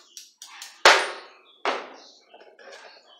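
Metal parts of a LYNU thickness planer tapped to work them loose, a few sharp clangs ringing out close by with short decays, spaced irregularly with lighter knocks between.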